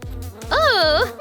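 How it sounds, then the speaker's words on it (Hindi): A cartoon bee gives a loud, close, wavering buzz with swooping pitch that lasts under a second, with short thuds just before it. "मधुमक्खी"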